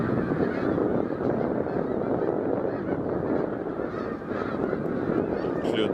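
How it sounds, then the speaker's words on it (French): A dense flock of snow geese honks continuously on the St. François River at Drummondville in November, a loud, unbroken wall of overlapping calls. "Des outardes blanches."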